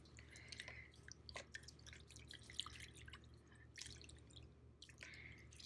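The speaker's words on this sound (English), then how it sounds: "it's a good idea to keep it under the water while you're kneading as much as you can" Hands knead silicone caulk under water in a dish-soap bath to make a mold, producing soft intermittent wet squishes and drips, close and quiet throughout.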